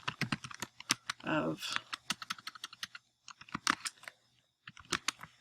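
Rapid, irregular keystrokes on a computer keyboard as a comment is typed, close and crisp, with a brief burst of speech partway through and short pauses between runs of clicks.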